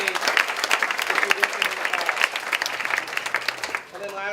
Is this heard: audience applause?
yes